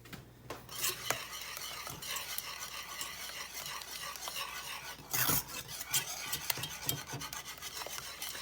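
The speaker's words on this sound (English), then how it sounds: "As you can see, the caramel bits are melting." A spoon scrapes and stirs through caramel bits melting into sauce in a pan, a continuous rasping swirl with occasional metallic clinks, close and alone.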